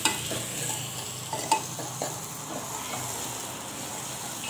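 Garlic and grated coconut stirred and fried in a pan for a Marathi ghevada dal aamti tempering, giving a steady soft sizzle with a few light utensil scrapes and taps, fairly close, with no talking.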